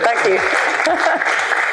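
Audience applause for a speaker at The Best You EXPO, a steady dense clatter of clapping that fills the room throughout, with a voice speaking briefly over it.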